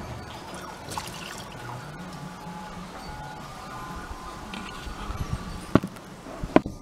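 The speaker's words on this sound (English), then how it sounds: "I'll just tip this water out." Water tipped out of a gold pan while cleaning gold, a soft continuous pouring trickle close by, quiet and steady, ending with a couple of sharp clinks near the end.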